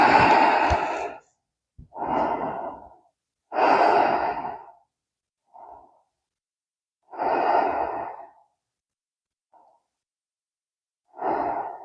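Slow, deliberate yoga breaths alternate between long audible inhales and exhales, separated by quiet pauses, close and clear with no talking.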